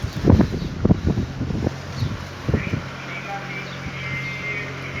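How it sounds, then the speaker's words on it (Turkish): Strong lodos windstorm in Mersin blows in a steady outdoor gust that roars against the microphone, under a voice talking near the start. "Şu rüzgara bir bakın arkadaşlar."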